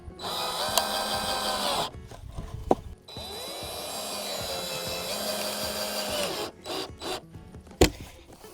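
A power driver sends screws into pallet wood in a few long whirring runs, each ending in a sharp knock, loud and close with short pauses between.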